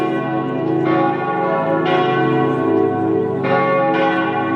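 A church bell in Nuremberg, Germany rings steadily with rich, sustained overtones, new strikes landing every second or so over a continuous resonant hum.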